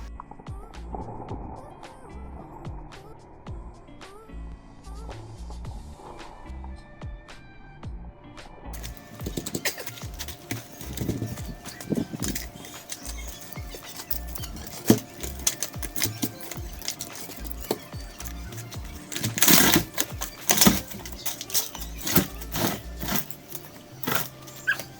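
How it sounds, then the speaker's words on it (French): A septic tank lid being pried open, quiet scraping at first, then from about nine seconds a burst of loud scraping, clanking and grinding knocks of tool against lid, close and irregular, with no talk. "Je vais essayer d'ouvrir ce couvercle ici."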